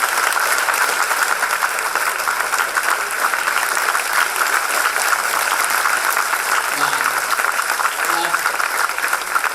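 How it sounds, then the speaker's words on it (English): An audience gives a loud round of applause at the close of a lecture on a presidential system for India, dense clapping sustained and steady throughout. "let's hear a loud round of applause for a fantastic lecture"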